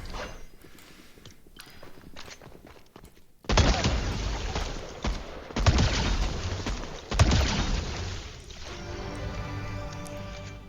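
Rapid bursts of weapon fire in the Fortnite KPop Escape roguelike mode, loud and dense with repeated shots and clattering over a steady game backdrop, no talk.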